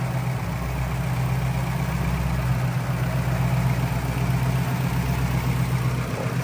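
A lowered 1981 Ford F100 pickup with a V8 idles smoothly, giving an even, deep rumble that holds steady and close for the whole stretch, with no voices.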